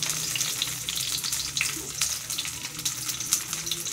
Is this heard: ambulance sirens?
no